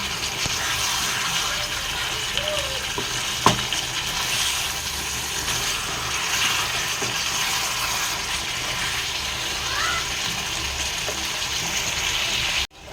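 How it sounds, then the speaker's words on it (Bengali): Hot water poured into curry frying in a pan, a steady hissing, gushing pour over sizzling oil that continues for several seconds at close range. "এবার আমি গরম জলটা দিয়ে দেবো।"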